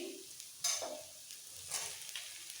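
Maggi noodles frying in a pan with chopped onion: a quiet sizzle broken by two or three brief spatula scrapes and tosses, close by.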